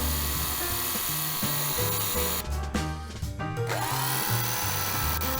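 A repaired Saprina Mini Cutter Model 1007, an old handheld fabric cutting machine with new motor bearings, runs with a steady high motor whine and gear drive. A sharp grinding burst in the middle settles back into the smooth hum.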